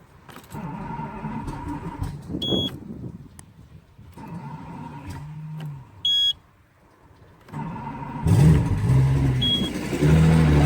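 A 2004 Lund Baron 720 boat's engine is cranked for its first start after winter storage, with a brief warning beep, keys being handled, then the motor catching and running with a rising rev near the end.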